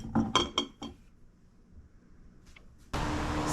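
A glass mason jar clinks in a few quick, close taps as it is handled in a kitchen, followed by a pause and then a steady rush of broadband noise.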